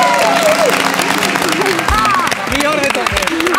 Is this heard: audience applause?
yes